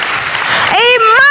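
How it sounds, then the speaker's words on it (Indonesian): A church audience claps for Jesus in a brief burst, the noisy applause cut short as a voice starts talking over it. "yang di atas boleh tepuk tangannya yang paling meriah buat Yesus Tuhan kita"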